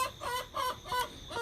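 Chickens cluck in short repeated bursts close by, with a rooster's call mixed in among the hens; pullets including olive eggers and a blue rooster.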